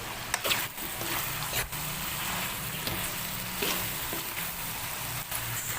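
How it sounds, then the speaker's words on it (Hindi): Cumin and ground coriander frying in a pan with potatoes and capsicum, a steady close sizzle with occasional stirring scrapes and taps throughout. "अब हमें इसे थोड़ी देर भूनना है।"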